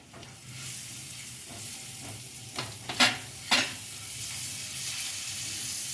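Fresh garlic and ginger paste sautéing in a pan with turmeric, a continuous hissing sizzle with a few louder spatters and stirring scrapes near the middle, no talking.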